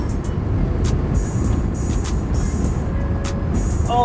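Toyota Celica ST-162 driving in overdrive, a steady road and engine rumble heard from inside the cabin, with faint clicks and rattles over the continuous drone.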